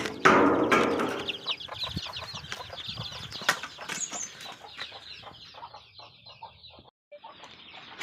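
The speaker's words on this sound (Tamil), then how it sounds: "இதுதான் நாங்கள் வாங்கி விட்ட வான்கோழி" Domestic turkeys at home, with close flapping wings at first, then a run of clucks, gobbling calls and scratchy noises in quick irregular bursts, fading toward a brief pause.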